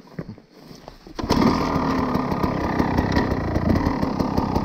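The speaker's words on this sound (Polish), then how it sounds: "Ale poczekaj, bo muszę odpalić motor" A KTM EXC 300 two-stroke dirt bike is kicked into life after a quiet moment, then runs close and loud at a steady, buzzing idle with a rapid, rattling pulse.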